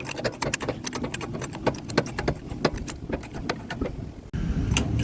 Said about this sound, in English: Okay, let's start cranking.